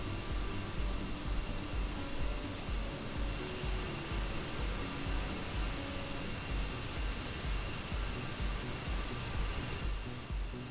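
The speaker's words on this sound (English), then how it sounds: "Of course, this plane is pretty loud." Loud, steady roar of a CRJ-550 jet's engines in a flight simulator, a continuous broadband whine and rumble with no talk over it.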